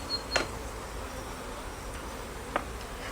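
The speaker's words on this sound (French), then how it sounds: "on va essayer de ne pas écraser trop d'abeilles" Honeybees massed at a beehive as it is handled and set in place, giving a faint, steady insect hum with a couple of brief louder buzzes of single bees passing close, no talk.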